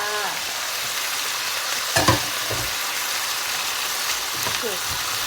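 Chicken stir-fried with ginger, onion and chili in a hot pan, a loud steady sizzle with a few scraping stirs of the spatula.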